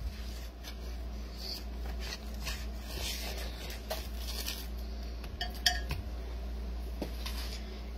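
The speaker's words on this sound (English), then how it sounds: "we're going to start out by putting our steaks right into the slow cooker" Steaks being placed into a slow cooker, heard as light clinks and knocks of the pot and utensils, close and fairly quiet, with no talking.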